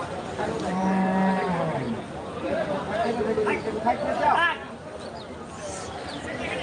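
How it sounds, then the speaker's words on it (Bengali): Several large cattle low and moo close by amid a busy crowd at the Talgachhi cattle market in Sirajganj, Bangladesh, with people chattering throughout. "এরকম বিশাল বিশাল গরুর সমাহার"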